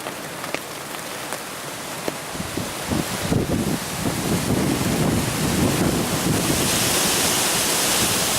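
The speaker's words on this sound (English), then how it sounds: "by the looks of this wind, and that wind blowing horizontally, it's about time to call it quits" Strong wind blows horizontally across open hunting ground during a firearm deer hunt. A broad rushing roar swells after a few seconds and stays loud, with gusty buffeting on the microphone.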